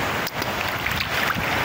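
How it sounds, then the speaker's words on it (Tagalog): Strong ocean surf at Bolasi beach in San Fabian, Pangasinan rushes and roars steadily, mixed with gusty wind buffeting the microphone. "ang lakas ng alon"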